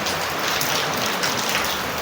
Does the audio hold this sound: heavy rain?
yes